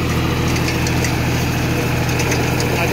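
A John Deere 5045 Power Pro 46 hp tractor engine runs in first gear with a loud, steady low diesel throb and a constant mechanical hum, close by and unbroken throughout, with no talking.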